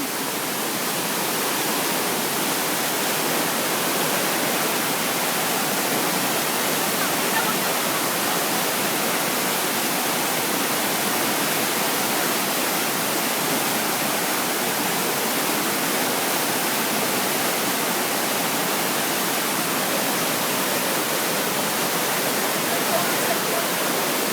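Loud, steady roar of a rain-swollen river rushing under a bridge, filling the whole clip, a dense continuous wash with no pauses.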